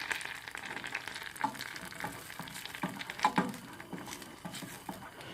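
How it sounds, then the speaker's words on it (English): Something melting quickly in a pan over low heat to form an emulsion, heard as a soft, close, steady sizzle with occasional light taps and stirring scrapes, fairly quiet and with no talking. "Over a low heat, I'd say, but you do want to melt it kind of quick."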